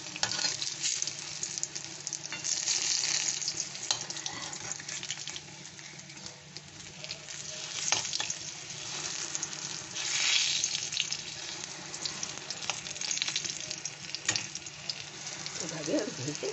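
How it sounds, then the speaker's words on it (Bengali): Long eggplant strips fry steadily in hot oil while being turned over and over, a continuous crackling sizzle with soft stirring clatter and faint background noise throughout. "এরকম করে ঘুরিয়ে ঘুরিয়ে ভেজে নিচ্ছি"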